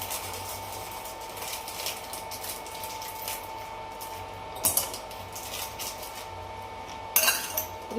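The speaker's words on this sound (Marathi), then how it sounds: "इथे 2 चमचे कस्टर्ड पावडर घेते मी" A spoon scrapes and clinks softly against a container while scooping custard powder for ice cream, quiet scratchy touches with a couple of sharper metallic taps near the end.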